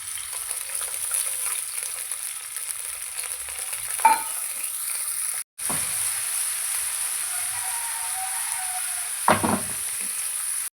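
Shallots, garlic and green chillies fry in a pan with a steady, even sizzle, broken by two brief clinks or stirs and a short cut partway through.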